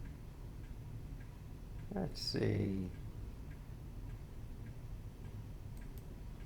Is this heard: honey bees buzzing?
no